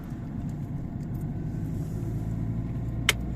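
A car driving on the road, heard as a steady, low, muffled rumble from inside the vehicle, with a single short click near the end.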